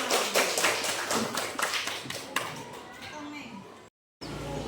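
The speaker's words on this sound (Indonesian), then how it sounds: "Tepuk tangan untuk kita semua." Children in a classroom clap their hands in a quick burst of rhythmic claps that taper off, followed by a brief silence before more sound resumes.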